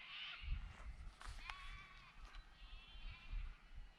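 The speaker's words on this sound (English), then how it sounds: "And we run sheep." Sheep bleating on a 1,500-acre property near Edenhope in Western Victoria, Australia, with a few wavering calls rising over low background rumble and handling noise.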